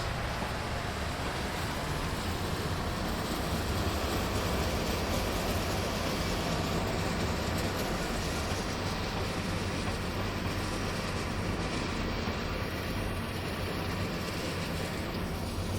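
Union Pacific gas turbine electric locomotive pulling away on a train at Cheyenne, a steady broadband rumble and roar holding level and close throughout, with no voices.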